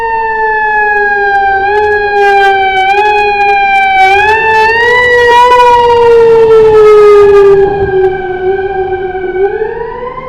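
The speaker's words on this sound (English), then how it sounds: "Man, that was a loud siren." Loud emergency siren from an FDNY fire truck passing through a cold Midtown Manhattan street at night, wailing with rising and falling pitch sweeps throughout, close and dominant with steady street noise underneath.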